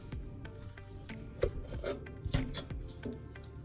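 Soft jackfruit being pressed and split apart in a pan with a utensil, giving close, irregular scraping and squishing sounds with a few sharper knocks against the pan, no talking.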